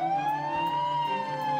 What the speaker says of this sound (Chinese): 救护车来了